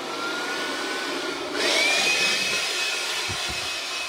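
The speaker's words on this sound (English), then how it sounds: "finished hoovering while blowing out the van" A vacuum cleaner hoovers out a van after window fitting, a steady close whine that jumps louder and higher about midway as the motor revs up, running continuously with a couple of soft knocks near the end.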